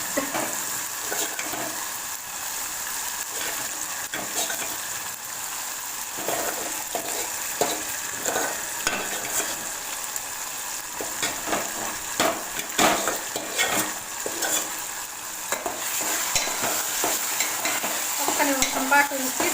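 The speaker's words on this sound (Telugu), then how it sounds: "వంకాయ బఠానీ ఉడకబెట్టినవి ఉన్నాయి కదండి, ఇవన్నీ ఇందులో వేసేసుకుని తాలింపు వేసేసుకోవడం." Boiled brinjal and peas are stirred and fried in a hot tempering, with a continuous close sizzle and repeated scraping taps of a spoon against the pan, with no voices.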